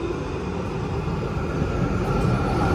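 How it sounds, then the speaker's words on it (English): A Melbourne tram rumbles past close by, a steady low mechanical roar that builds slightly louder toward the end, with no voices. "That's my tram."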